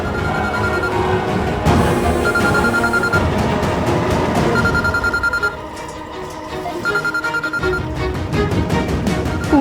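A telephone rings in a domestic drama scene, a repeated electronic ringing pattern that sounds in regular bursts over about ten seconds, fairly loud with background music or room sound underneath.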